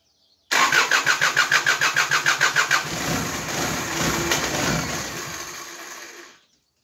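Peugeot 305 turbo diesel engine cranking with a rapid rhythmic starter chug for about two seconds, then catching and running with a loud, rough steady roar before cutting off.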